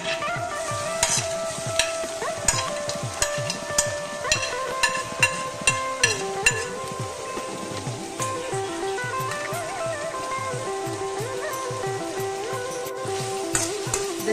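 Lemon and mango sautéed in a pan for pickle, a close sizzle under rhythmic scraping strokes of a spoon, repeated steadily with small clicks throughout, no speech.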